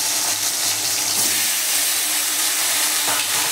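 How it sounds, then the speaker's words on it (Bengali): Ivy gourd frying in hot oil in a wok, a dense, steady crackling sizzle with faint stirring scrapes, close and continuous throughout, no voices. "এর মধ্যেই আমি কুঁদরিটা ভেজে নেবো।"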